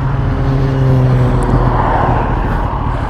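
A Kawasaki motorcycle passes on a winter road, its steady engine drone swelling and easing over a constant roar of wind and the rider's own bike, loud and close, with no talk.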